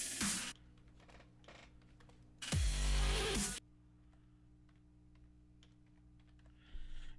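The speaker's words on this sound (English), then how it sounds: "I'm typing while I'm doing other things" Someone types on a computer keyboard in short bursts of close, crisp key clicks separated by quiet pauses, with a louder rustling thump in the middle.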